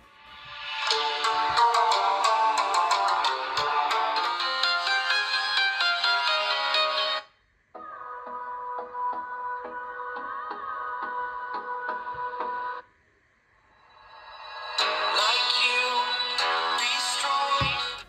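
Royalty-free music plays through the built-in speakers of an Oukitel OT5 tablet. It is bright and tinny with little bass, comes in three sections separated by short gaps, and has no talk over it.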